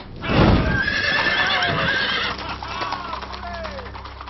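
Horses whinny in a long, loud neigh while hooves clip-clop underneath, followed by fainter snorts and shorter calls, with voices mixed in.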